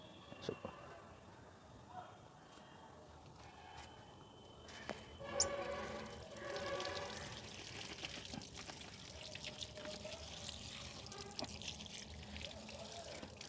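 Pencil beans being rinsed under running water in a sink, a steady trickling and splashing that swells midway and continues at moderate level, with a voice speaking faintly at times.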